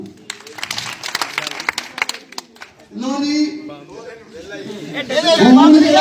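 An audience at a comic prize-giving show breaks into lively clapping for about three seconds, then voices take over with speech and chatter.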